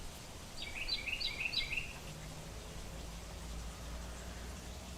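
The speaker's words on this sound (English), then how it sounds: "Can y'all hear the birds? They are so happy and cheerful out here." Birds chirping outdoors: a short burst of quick, high chirps rises for about a second, then the sound settles back into a faint, steady outdoor hiss.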